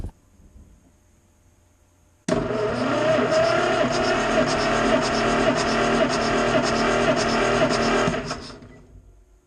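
An old tractor engine cranked over during a compression test, a loud, steady, rhythmic churning drone that starts abruptly, runs about six seconds close up, then winds down.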